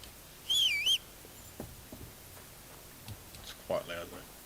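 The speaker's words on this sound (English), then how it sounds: "They really don't like you whistling," A character whistles in the video game Kingdom Come Deliverance 2, giving a short bright warbling whistle near the start and a brief lower one later, set against a quiet background with faint ambient sounds.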